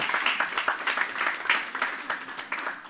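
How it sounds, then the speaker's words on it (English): An audience at a finance ministry presentation on natural disaster risk gives a round of applause. Dense, steady clapping from a crowd lasts about three seconds at moderate loudness. "That deserves a round of applause."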